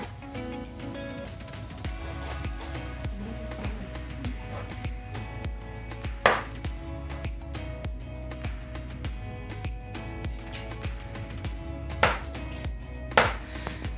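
Ground beef is chopped in a pan, giving a steady run of soft, muffled scraping and tapping strokes with occasional sharper knocks against the cookware, all at low level.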